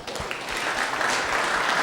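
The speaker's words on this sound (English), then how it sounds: "I think that deserves an applause." An audience applauds after an evening presentation at an arts event, giving a steady wash of clapping from many hands, moderately loud and continuous for the whole short stretch.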